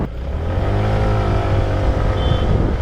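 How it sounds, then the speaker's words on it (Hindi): TVS Jupiter scooter, the 2025 model, with its engine held at full throttle, a loud close buzzing drone that climbs slightly in pitch and stays steady, with no talking. "ये थोड़ी सी आवाज़ अगर आप ऐसे फुल थ्रॉटल कर दोगे तो आपको फील होगी।"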